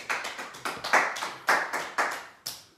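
A church congregation claps in praise during a prayer service, with sharp, fairly even handclaps in a quick rhythm that ring out loudly against a quiet room.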